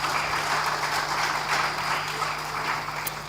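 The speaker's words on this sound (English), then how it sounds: "So a round of applause for them." Conference audience at a Sexual Assault Referral Centres network meeting applauding a presentation, steady dense clapping from a room full of people, sustained throughout without talk.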